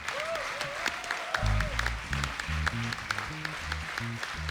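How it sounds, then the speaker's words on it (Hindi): Audience applause at a comedy show, steady clapping at moderate loudness with some accompanying music beats and background voices. "चारों के लिए जोरदार तालियां।"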